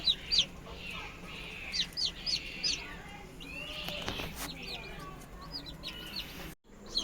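Country hens on a poultry farm cluck softly near a clutch of eggs, with repeated short high chirps from chicks on and off against a quiet background hum.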